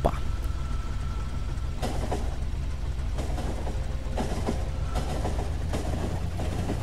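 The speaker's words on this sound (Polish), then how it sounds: "Im więcej wagonów, tym ona wolniej jedzie" Train pulling a string of wagons rolls along the rails in the factory-building video game Factorio, a steady rumbling run with periodic clacks, alone and at constant loudness.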